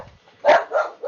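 A pet dog barks nearby, with two or three sharp, loud barks in quick succession and no speech.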